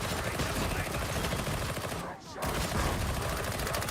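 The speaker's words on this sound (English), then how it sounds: "shooting blindly into the fire" Rapid, continuous automatic gunfire from the Warhammer 40k Darktide video game, loud and dense throughout with a brief dip near the middle, set amid chaotic combat sounds.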